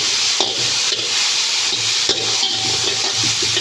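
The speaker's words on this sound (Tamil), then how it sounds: "தக்காளி ஆட் பண்ணிட்டு நல்லா இதை மிக்ஸ் பண்ணி வச்சுருக்கோம்" Tomato and onion frying in oil in a pan, a steady loud sizzle with scraping spoon strokes stirring the mix at irregular intervals, no voices.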